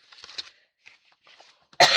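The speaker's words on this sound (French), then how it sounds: "Pardon, je tousse encore beaucoup." A single harsh cough bursts out close to the microphone at the end, following a stretch of faint, quiet shuffling sounds.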